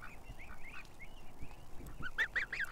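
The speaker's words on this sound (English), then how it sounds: "This goose, I'm seriously attached to it." A goose honks repeatedly in short nasal calls, fairly distant at first and growing closer and louder toward the end, over a soft outdoor background hiss.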